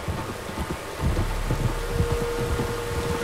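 Steady rain with low rumbling thunder in Red Dead Redemption 2, a continuous wash of falling water with deep irregular rolls and thumps underneath, fairly close and moderately loud.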